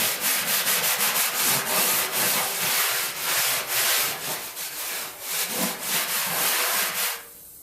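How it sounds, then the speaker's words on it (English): A stainless steel scrubber rasps paint off the body of a classic car in loud, close, continuous back-and-forth strokes with a gritty sanding texture, going on steadily before stopping abruptly at the end. "Seems the stainless steel scrubber works better than just the regular SOS scrub pad."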